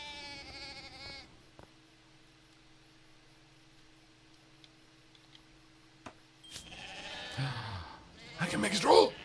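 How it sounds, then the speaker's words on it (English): Sheep bleat in the video game Deiland: a sustained bleat opens, then after a quiet stretch of faint ambience and ticks, louder wavering bleats and game sounds return at the end. "Finally, I can have sheep on the planet!"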